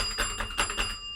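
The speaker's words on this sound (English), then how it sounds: "I'm going to ring the bell." A small bell, like a bicycle or desk bell, rings a few quick bright strikes close by, its sustained metallic tone lingering briefly before cutting off, with no talking.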